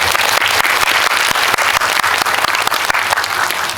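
Loud, sustained applause from a cinema audience at Megabox COEX theater 3 during a stage talk for a film opening, dense, steady clapping filling the room without letup.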